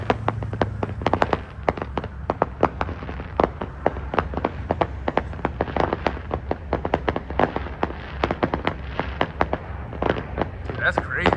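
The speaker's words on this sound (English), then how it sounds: "they're literally doing these fireworks right over our heads over here a second ago" Fireworks bursting overhead in a rapid, dense string of sharp cracks and pops lasting the whole stretch, loud and close, with people talking underneath.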